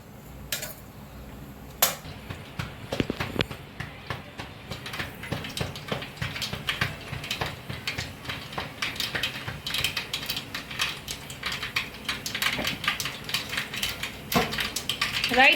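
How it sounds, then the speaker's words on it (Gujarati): Mustard seeds spluttering in four to five tablespoons of hot oil in a pot for Gujarati rasiya bhaat, heard as dense, rapid popping and crackling close by, with occasional metallic clinks of the pan. "રાઈ તતરી જાય"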